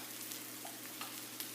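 Ground ginger with cinnamon and nutmeg sizzles steadily in a pan, a soft continuous frying hiss with a few faint clinks, no voices.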